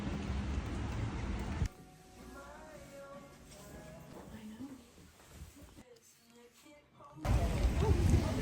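Light drizzle falls on the Isle of Skye, a steady soft hiss that is loud and close at the start and end, with a quieter stretch in between where faint, muffled voices can be heard.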